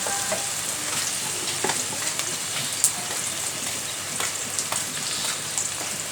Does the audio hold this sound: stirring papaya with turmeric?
yes